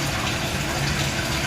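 A washing machine and dryer run in a garage, giving a steady, close, broadband rushing and whooshing of water and motor noise that stays constant throughout, with no talking.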